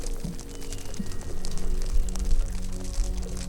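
Fingers tap on an open palm to imitate falling raindrops, a soft, steady patter that runs throughout over a continuous background bed.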